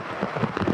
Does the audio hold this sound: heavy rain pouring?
yes